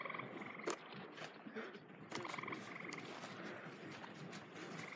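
Frogs croak at a beaver pond in Vermont. Repeated croaks come faint and somewhat distant over quiet outdoor ambience.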